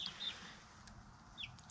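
Small chickens give a few brief, high calls, faint and scattered over a quiet outdoor background, with no talking.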